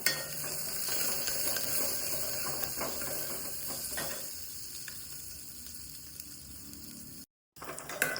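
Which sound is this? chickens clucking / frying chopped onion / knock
frying chopped onion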